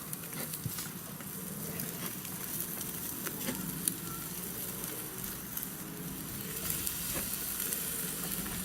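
Steak searing on a barbecue griddle, a steady close sizzle and crackle that holds throughout with small pops scattered across it and no voices.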